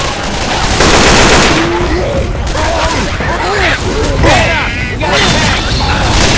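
Video game gunfire in a chaotic shootout: dense, continuous volleys of shots with booming impacts, loud and close, layered under excited shouting from players throughout.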